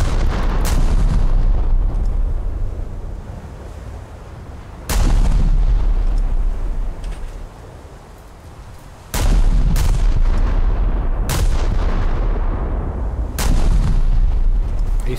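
Naval guns blasting in the War Thunder video game, three heavy booming salvos, each a sharp loud crack that rolls off into a long rumbling decay, spaced several seconds apart.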